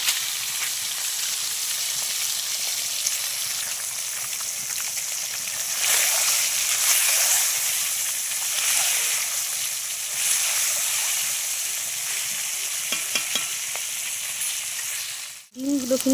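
Eggs frying in very hot oil in a wok, a steady broad sizzle running loud and continuous throughout, ending in a brief clatter.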